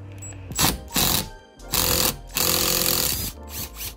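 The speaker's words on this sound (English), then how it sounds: "The sucker had to be like hammered out." A fastener is hammered out of the side mirror mount on a 2012 Ford F-150, several loud close metallic strikes and bursts in uneven spurts with short gaps between them.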